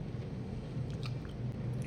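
Chewing solid food while wearing new partial dentures, a close, soft, steady mastication with faint moist squishing and crunching for about two seconds, no voices.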